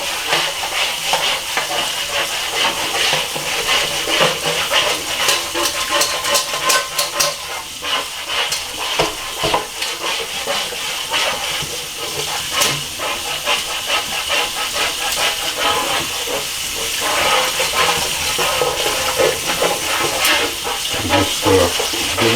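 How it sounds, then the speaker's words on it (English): A metal spatula scrapes and rubs stubborn residue off the metal pan of a NuWave oven, a steady, close, gritty scraping texture that continues with little pause. "I get myself a spatula and start rubbing in there"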